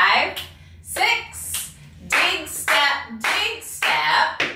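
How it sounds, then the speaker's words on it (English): Tap dance steps with stamps and claps during a step-by-step tutorial, a series of sharp bright percussive hits in quick rhythmic clusters, repeated several times, close and fairly loud with no talking. "Left foot, dig toe, stamp clap."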